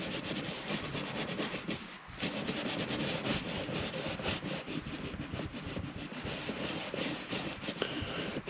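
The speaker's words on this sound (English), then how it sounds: "try and rub that dye in" Steady rasping, scrubbing strokes of dye being rubbed into leather car seats, a continuous close-up friction texture with quick back-and-forth bursts and no talking.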